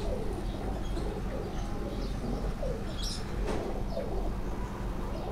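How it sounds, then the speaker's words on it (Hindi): Breeder pigeons at a pigeon keeper's loft coo in soft, repeated low calls over constant background noise, with a few faint chirps mixed in. "ये खालिद भाई के ब्रीडर कबूतर जो हैं"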